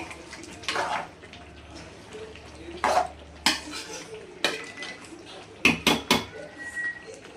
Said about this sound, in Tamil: மறுபடியும் மூடி போட்டு வேக வச்சுக்கலாம்